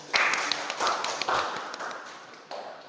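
Students in a university classroom clap their hands together, a scattered, uneven burst of claps at close range that thins out toward the end, with no talking over it.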